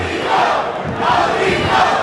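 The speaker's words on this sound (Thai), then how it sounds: "มาสียงตะโกนเชียร์โนนิโตโนนิโต" A boxing crowd shouts and cheers for Filipino fighter Nonito Donaire in a dense, continuous roar that swells in waves, loud and close, with no clear single voice standing out.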